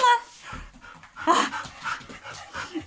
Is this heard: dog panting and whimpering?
yes